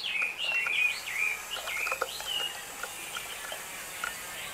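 A hwamei songbird sings nearby in a series of clear, sweet whistled phrases and quick chirps, fairly loud at first and then thinning to scattered short notes over quiet background hiss.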